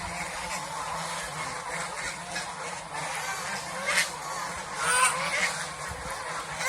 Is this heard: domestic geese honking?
yes